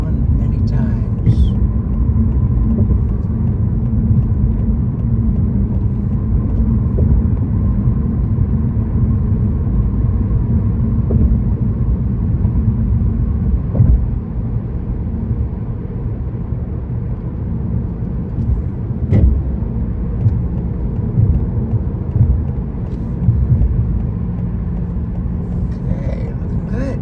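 Steady low road rumble of car traffic moving past on a city street, continuous and fairly loud throughout, with faint voices underneath.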